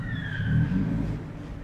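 A Lamborghini Huracan STO accelerating on a public road, its engine and exhaust producing a loud, sustained rising roar that swells and then eases slightly, close by with no talking.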